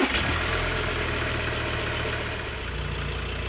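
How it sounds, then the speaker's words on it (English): A car engine idles steadily at close range while coolant is topped up, a low continuous rumble with no voices and no change in pace. "We'll just let the engine run for a little while"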